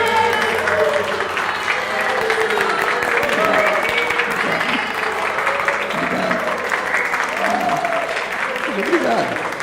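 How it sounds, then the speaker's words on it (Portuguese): A church audience applauds steadily and loudly throughout, with voices and cheering mixed into the clapping. "Aplaudindo."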